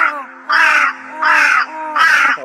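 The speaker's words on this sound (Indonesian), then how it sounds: "burung gagak tuh selalu keliling" Crows cawing around a village at night: three loud, harsh, close caws spaced evenly about half a second apart, with no voices.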